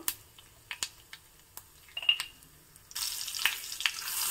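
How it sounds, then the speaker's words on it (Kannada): Tempering spices with dried red chilli fry in hot oil for a Malenadu Havyaka dish. Scattered sharp pops and crackles are followed by a steady, louder sizzle, close and with no talking. "ಚೆನ್ನಾಗಿ ಒಗ್ಗರಣೆ ಮಾಡ್ಕೊಳ್ಳೋಣ."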